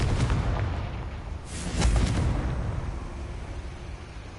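Confringo explosive spell blast in the video game Hogwarts Legacy, a loud booming burst near the middle over a rumbling, noisy game background.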